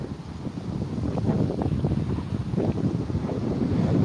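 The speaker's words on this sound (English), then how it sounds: "when it's not so windy" Gusty wind by a river buffets the microphone in a continuous low, rumbling roar that swells slightly over the few seconds, with no voices.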